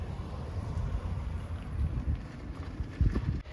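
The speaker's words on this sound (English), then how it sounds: "so the bike's warmed up. Tell by the noise level, speaking normal volume, you can hold a conversation." A warmed-up motorcycle engine idles with a steady low exhaust rumble, close to the microphone and mixed with some wind buffeting.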